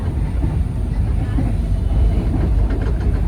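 Inside the cabin of a moving economy-class passenger train, a low steady rumble and rolling rail noise fill the space, with faint background voices underneath.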